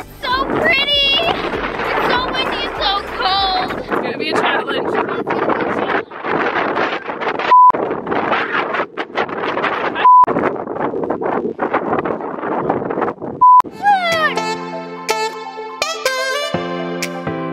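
Strong wind outdoors at 1,686 feet buffets the microphone with a loud, rough roar that keeps going, and a few short beeps cut through; near the end, tonal music takes over.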